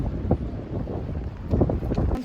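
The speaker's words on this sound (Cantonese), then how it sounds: "好大風啊！" Strong wind outdoors in England buffets the microphone, a continuous low roaring rumble with gusty swells, close and fairly loud, with no talking.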